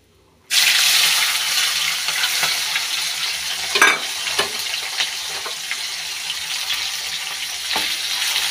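Onions drop into hot oil in a pan with bay leaf and fry at once, a loud steady sizzle starting abruptly, with occasional scrapes and knocks of a spoon stirring, no talk.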